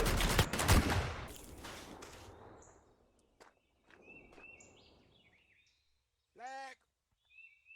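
Gunfire rings out in a video game, with a dense burst of shots at the start that fades into scattered sharp cracks, followed by sparse quieter sounds and chirps.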